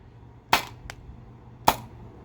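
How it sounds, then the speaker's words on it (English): Two sharp, close salt gun shots fired over a chronograph on a warm day, separated by about a second, with a fainter click between them against a quiet background. "Did do all 15 shots, but those last magazine was super weak."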